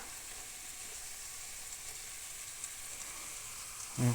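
Onion and garlic sizzle and crackle quietly in hot oil and butter, a steady frying hiss, ending with a brief louder clunk.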